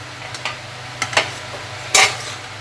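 Prawns lifted from hot frying oil for chingri bhuna, soft sizzling under a few sharp scrapes and clinks of a utensil against the pan, close by, with one louder scrape near the end and no talk.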